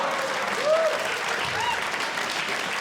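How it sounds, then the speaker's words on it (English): An audience applauds at a stand-up comedy show, giving a short, fairly quiet burst of clapping from a crowd, with faint voices mixed in. "I don't know why you're applauding"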